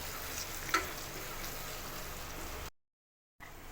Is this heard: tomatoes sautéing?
yes